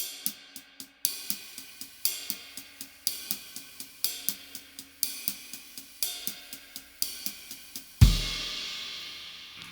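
A steady drum groove with regular ride cymbal strokes and kick hits, ending in a loud crash cymbal that rings out and fades alone.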